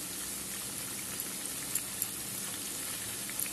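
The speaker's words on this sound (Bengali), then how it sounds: "সবগুলো পেঁয়াজি দেওয়া হয়ে গেছে। এবার আমি লাল লাল করে সবগুলোকে ভেজে নেবো।" Onion pakoras (peyaji) fry in oil over a low flame with a soft, even sizzle that crackles steadily throughout, close and alone.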